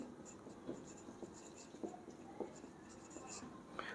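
Marker or chalk strokes on a board during a Bengali accounting lesson on cost reconciliation, a series of faint scratchy taps and strokes spread through the clip under quiet room noise.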